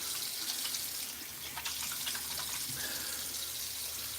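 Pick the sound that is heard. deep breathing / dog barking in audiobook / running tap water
running tap water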